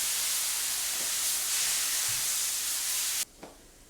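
Sherry added to dark-browned onions in a hot pan hisses and sizzles loudly and steadily for about three seconds, then cuts off abruptly, leaving a quiet room with one faint clink.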